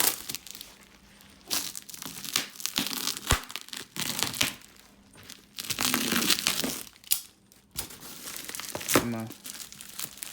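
Plastic wrap on an eBay rear bumper package for a Honda del Sol being cut into and torn, with loud crinkling, ripping bursts and crushing in irregular close-up spurts, briefly interrupted by a voice.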